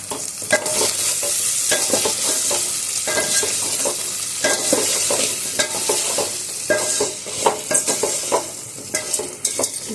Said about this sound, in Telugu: ఇప్పుడు వీటిని ఒక ఫైవ్ ఫైవ్ మినిట్స్ పాటు ఫ్రై చేద్దాము